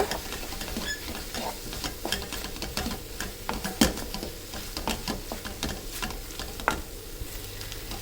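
Masala powder sautéing for a village-style dry fish curry, a continuous close sizzle and scraping with irregular clicks and taps from stirring, medium loud, with no talking.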